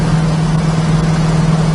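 A steady, low engine hum from a 1966 Chevrolet Nova drones on without a break, idling or cruising at an even pitch with no voices.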